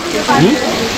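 Steady hiss of running water pours from a spout on the road to Manang, Nepal, with a voice talking briefly over it.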